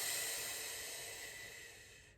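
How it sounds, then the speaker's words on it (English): A person doing a plank exercise breathes heavily, one long hissing exhalation that starts close and loud and fades over about two seconds, with no talking. "I'm going to focus on breathing."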